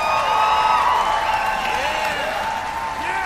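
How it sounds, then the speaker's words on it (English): Crowd applause in the video game Wayfinder: a steady wash of clapping and cheering with ringing musical tones layered over it, loud and continuous for a few seconds. "gonna need a round of applause for the crowd's favorite."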